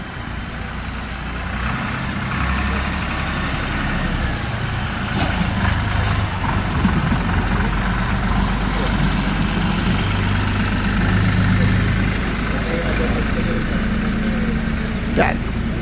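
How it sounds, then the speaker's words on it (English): A tractor engine runs inside a stone church under renovation, a steady low rumbling idle that echoes through the interior and continues throughout, fairly loud with faint background activity. "you can hear a tractor noise. It might go out now, but what a tractor is doing in the church?"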